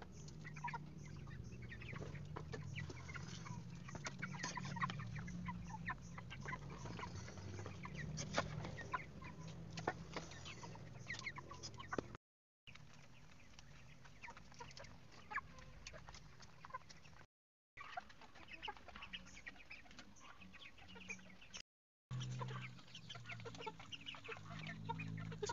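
Broiler chickens about 45 days old cluck steadily in a coop at feeding time, a dense chorus of fowl sounds close by and continuous, broken by a few brief cuts of silence.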